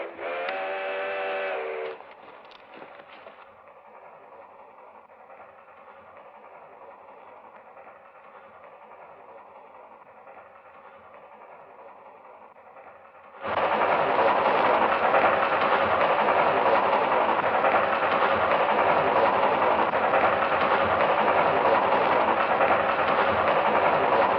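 A steam whistle sounds briefly at the start, then a steady mechanical rumble builds into a loud, broad roar as a steam train draws close.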